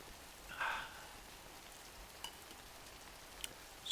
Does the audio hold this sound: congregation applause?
no